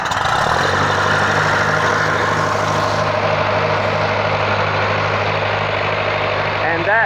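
Ferguson TO-20 four-cylinder gas tractor engine after a cleaned ignition contact, running with a steady loud idling rumble close by throughout, with a voice briefly heard.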